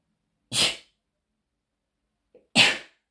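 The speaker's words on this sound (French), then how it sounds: "je suis désolée, je vais éternuer" Two sharp sneezes, separated by about two seconds of silence, each a short explosive burst, close and fairly loud.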